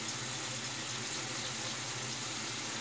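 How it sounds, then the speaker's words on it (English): Tap water runs steadily from a faucet as a razor blade is rinsed under it, a continuous soft broadband hiss with no break, nearby and moderately quiet, no voices. "I just wanna give the blade a good rinse off again."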